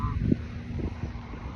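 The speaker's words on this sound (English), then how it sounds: "You all are some beautiful birds." Birds honk and call outdoors, a few short goose- or duck-like cries over wind and low background rumble, moderately close.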